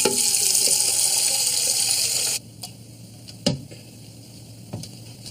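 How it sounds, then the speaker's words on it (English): Water from a tap rushes into a glass in a loud steady stream for about two seconds, then stops, followed by a few sharp knocks and clinks of glass. "Fill it with water."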